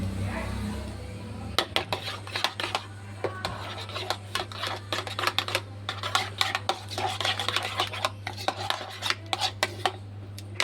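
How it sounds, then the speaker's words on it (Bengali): A spoon stirs strained curd into mango in a bowl, making repeated close scraping and clinking strokes in an irregular rhythm over a steady low hum. "এবার দইটাকে ছেঁকে 50 গ্রাম দই আমি এইভাবে এর মধ্যে মিশিয়ে দিচ্ছি আমের মধ্যে"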